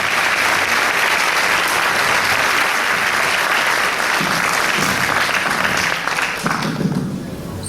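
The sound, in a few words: applause for performers on stage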